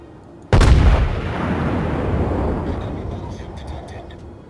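Battleship main guns firing in World of Warships, a single loud, deep cannon blast that rolls into a long rumbling decay.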